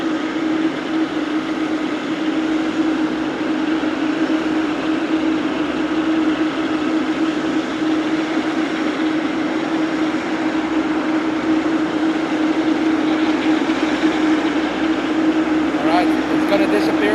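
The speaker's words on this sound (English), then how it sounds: "the 777 is taxiing" Boeing 777 taxiing at Frankfurt Airport on a winter morning, a loud, unbroken jet drone with a steady mid-pitched whine that holds evenly throughout.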